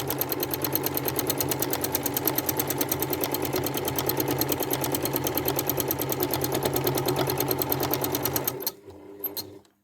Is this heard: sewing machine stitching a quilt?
yes